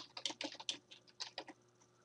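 Quick bursts of typing on a computer keyboard, about a dozen close, crisp key clicks in an uneven rhythm with short pauses, no one speaking.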